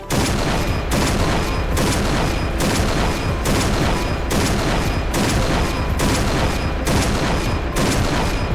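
Barrett sniper rifle firing in the Point Blank video game, a steady run of loud, sharp shots at roughly one per second, each blast followed by a brief decay, dense and close.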